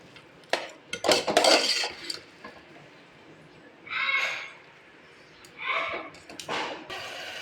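Banana flower biryani masala gets stirred in a pot with a few loud scraping, clattering strokes of a utensil against metal, separated by short pauses and clustered near the start and again toward the end.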